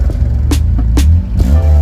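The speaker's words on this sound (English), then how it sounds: "Fire it up and give me a good rip." A drift car engine idling loud and close, with a deep throbbing rumble and a few brief sharp pops or blips over it, and no talk.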